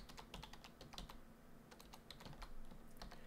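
Someone types a spreadsheet formula on a computer keyboard with a steady run of close, quiet key clicks and a few brief pauses.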